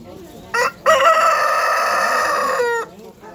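A rooster crows at a poultry market in Bishkek, one loud, close, drawn-out call lasting about two seconds, preceded by a brief short squawk, with no people talking.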